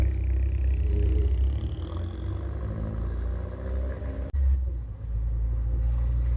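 A Smart Crossblade's small engine and exhaust rumble in a low, steady drone that briefly cuts out near the end, then resumes.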